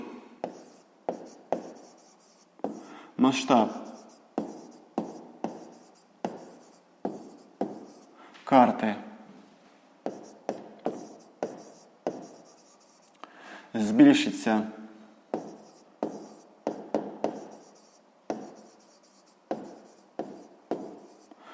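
Pen or chalk strokes of handwriting during a sixth-grade maths lesson, many short scratchy bursts in uneven rhythm, with someone speaking between and over the strokes.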